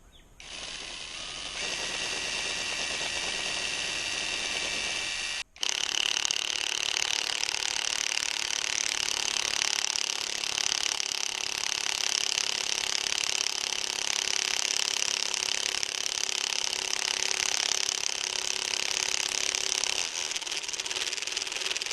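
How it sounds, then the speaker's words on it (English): A Kimo impact wrench drives lag screws into a tree with a steady, loud, continuous hammering whir. After a brief break it resumes louder and keeps running to the end, with no voices. "we got the Kimo with a couple of lag screws, and we're going to put it into this tree here and see how it does sinking them in there"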